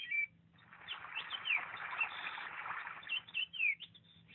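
Lakeside ambience played from a CACHOR sunrise alarm clock, birds chirping and calling over a soft, steady wash of background noise, moderately quiet and continuous.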